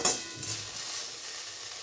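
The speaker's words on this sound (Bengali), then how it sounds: "এখানে আমি বেগুনটাকে ভেজে নিচ্ছি একটু নুন আর হলুদ দিয়ে" Steady, close sizzling of eggplant frying in hot oil with salt and turmeric, a continuous hiss with faint stirring.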